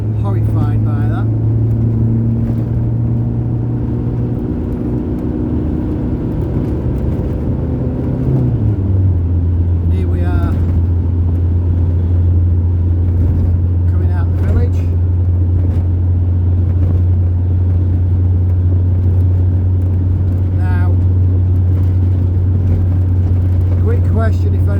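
A battered old bus with a 70-brake-horsepower engine drives along a road, its loud, steady engine drone dropping in pitch as it shifts about a third of the way through, with someone talking over it.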